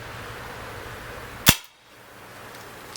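An Umarex Steel Force CO2 blowback BB rifle fires a single shot: one sharp, loud crack with a brief decay, set against quiet outdoor background and no talking.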